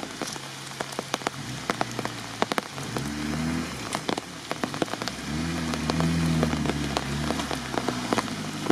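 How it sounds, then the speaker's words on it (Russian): Heavy rain drums steadily on the vehicle during an off-road forest drive with a Pinzgauer and Suzuki Samurai, dense pattering with scattered louder drops over a low, rising engine drone. "Дождь продолжает идти достаточно сильный опять."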